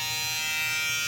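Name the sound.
FX3 electric shaver running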